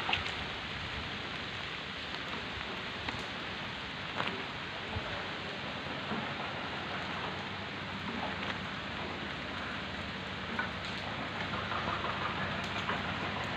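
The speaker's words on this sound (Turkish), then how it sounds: "Şu an yağmur güzel bir şekilde yağmaya başladı." Rain falls steadily in a village square, a continuous soft hiss of drops on surfaces with occasional small taps, even and moderately loud throughout.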